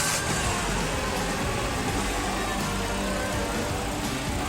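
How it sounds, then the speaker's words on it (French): Car engine idling steadily just after an oil change with Total Quartz 9000 5W40, a continuous mid-level rumble at close range running alone for the whole stretch. "Je vais juste faire tourner un petit peu le moteur pour qu'il circule bien"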